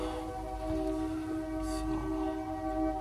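Old freight train rumbling past steadily at middle distance, a continuous low roar with sustained tonal whine layered over it, alone with no talk.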